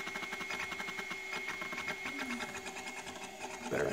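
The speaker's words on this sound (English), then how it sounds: "I just wanted to catch the little stepper motor being cute." Small stepper motor in a MiniScribe hard drive running a scan, a fast, steady, buzzing chatter with a faint whine, close and fairly quiet throughout, ending in a brief louder thump.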